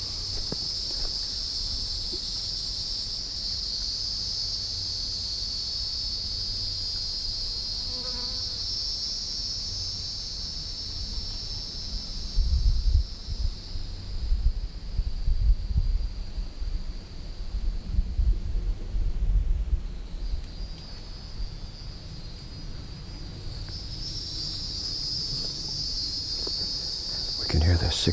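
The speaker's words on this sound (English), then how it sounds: "You can hear the cicadas in the background." Cicadas drone steadily in high sustained bands along a Florida nature trail near Lake Beresford in DeLand, briefly dipping and resuming, over low wind rumble and occasional footsteps on the path.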